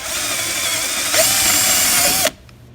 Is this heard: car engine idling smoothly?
no